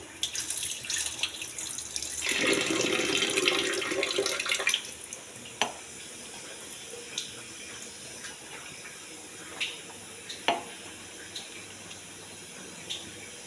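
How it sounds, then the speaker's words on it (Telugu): Red rice, soaked overnight, is rinsed in water: a few seconds of close, steady sloshing, then quiet with a few faint clicks of grains and vessel. "రెడ్ రైస్ అండి, రాత్రి నానబెట్టాను. ఇవి శుభ్రంగా కడిగి పారబోయాలి."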